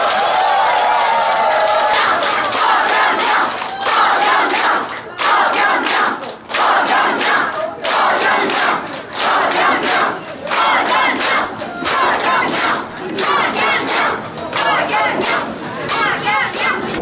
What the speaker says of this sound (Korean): 힘찬 뜨거운 박수를 보내주시면 감사하겠습니다